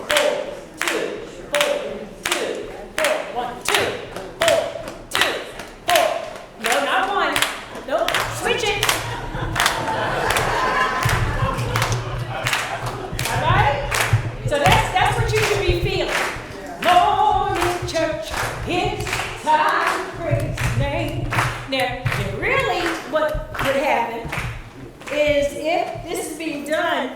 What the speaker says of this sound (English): now, so you see what we're clapping on here, right?